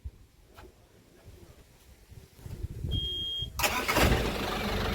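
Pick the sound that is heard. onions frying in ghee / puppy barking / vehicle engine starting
vehicle engine starting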